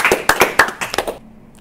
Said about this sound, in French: Je vous demande d'applaudir nos invités.